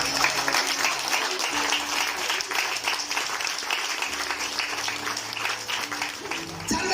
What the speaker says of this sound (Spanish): dale el aplauso al Rey de Reyes